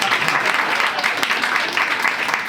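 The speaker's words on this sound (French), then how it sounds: "Les gens t'applaudissent." A stand-up comedy audience applauds in a steady, dense wash of clapping that swells slightly in waves, loud and close.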